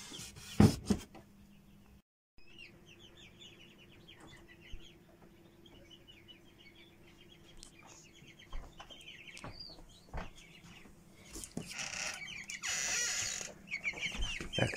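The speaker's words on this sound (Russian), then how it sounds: "Так, этим цыпляткам 3 недели." Three-week-old chicks near an incubator peeping in rapid high trills and soft clucks, faint and quiet, with a low steady mechanical hum and occasional clicks underneath.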